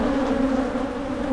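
Honey bees buzz steadily around an opened hive during an inspection of brood frames, forming a close, continuous droning hum with no voices.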